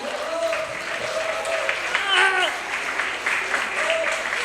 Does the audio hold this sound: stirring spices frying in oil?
no